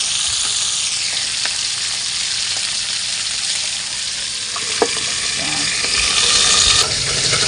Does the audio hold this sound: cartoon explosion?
no